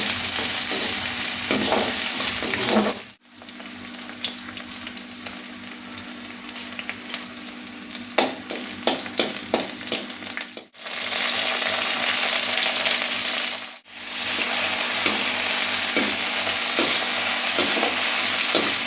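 Tomato, potato, green chilli and whole spices fry in a hot kadai, a continuous loud sizzle and crackle broken by three brief pauses.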